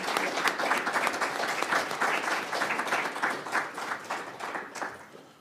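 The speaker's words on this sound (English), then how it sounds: "Can we just give them a round of applause?" An audience claps for the speakers after a panel discussion on spices and sustainability in business and agriculture. The applause is dense and continuous at moderate distance, thinning slightly toward the end.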